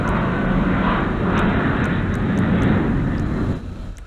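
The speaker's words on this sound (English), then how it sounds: "And that was a plane going by." Airplane passing overhead in a GTA 5 game scene, a loud broad roar holding steady for several seconds before easing off, with faint short clicks layered on top.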